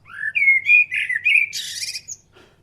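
A bird chirps in a quick run of bright whistled tweets and trills, then a brief buzzy burst, clear and alone over quiet background.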